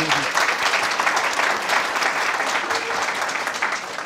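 Steady applause from a large audience at a health-themed public talk, dense continuous clapping at even loudness throughout with no gaps.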